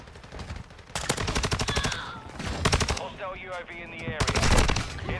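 Rapid automatic gunfire in Call of Duty Modern Warfare 2 comes in three loud bursts of fast, evenly spaced shots, with a short lull between the second and third bursts.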